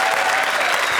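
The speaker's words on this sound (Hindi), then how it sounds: "तालियां" Dense, continuous applause from a studio audience at a televised comedy show, a loud wash of many hands clapping at once.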